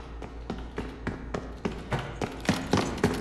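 Enemy footsteps in the video game Modern Warfare 3: a steady run of about eleven sharp, fairly loud steps that grow slightly heavier toward the end, over a low constant hum.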